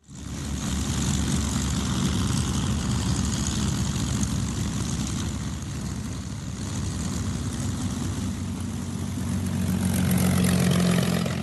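A P-47 Thunderbolt's propeller engine runs steadily while the fighter lines up in takeoff position, a loud continuous low rumble that swells slightly toward the end, with no voices.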